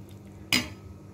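A spoon stirs beans poriyal in a pan and strikes the metal once, a single sharp clink that stands out briefly from low background noise.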